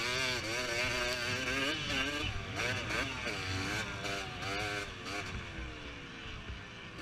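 A motocross motorcycle races round the track during a spring series event, its engine screaming loud and close with rapidly rising and falling revs through gear changes, continuous throughout and only easing slightly near the end.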